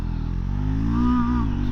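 A Triumph Scrambler 400X single-cylinder engine revs nearby with a loud, steady drone that swells briefly in pitch before settling back.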